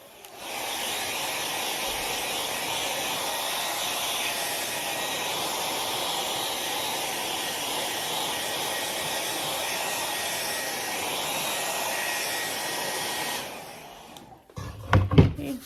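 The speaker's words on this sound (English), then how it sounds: "Hit it with a hair dryer really fast." A hair dryer drying paint on an upcycled barrel sign blows steadily with a loud, even whoosh for about thirteen seconds, then cuts off, followed by a few brief clunks.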